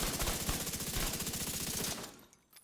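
A gun in the video game The Division 2 firing on an elite enemy, a loud rapid automatic burst of evenly spaced shots that stops sharply, leaving a brief quiet tail with one faint click.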